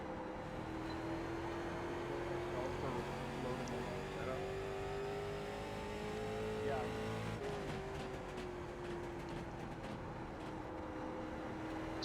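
A late model race car engine drones in the iRacing sim, a steady sustained tone rising gradually in pitch, then dropping with a brief shift in character, fairly quiet and even, with a voice speaking over it.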